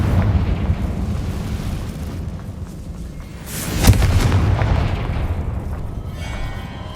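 The Confringo explosive spell goes off in Hogwarts Legacy as a single sharp booming burst over rumbling game ambience, followed by a roaring tail that fades slowly.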